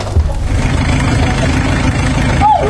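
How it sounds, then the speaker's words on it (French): A motor engine rumbles low and steady throughout, fairly loud and continuous, with a brief higher tone near the end. "j'entends un bruit de moteur"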